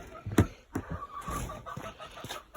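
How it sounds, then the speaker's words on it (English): Chickens clucking softly nearby, a few short bursts and murmurs against a quiet background. "Hello, chickens."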